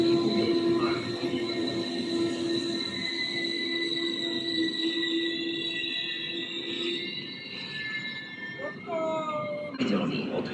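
Tatran express train standing at Košice station, with a steady low rumble and sustained tonal whine from the locomotive, high squeals and tones shifting near the end, loud and close throughout.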